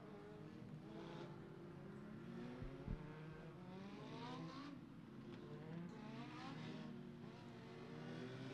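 Legend Cars race car engines roar steadily on Beckley Motor Speedway during hot laps and qualifying, with revving and rising pitch sweeps as several cars pass at close to middle distance, loud and continuous.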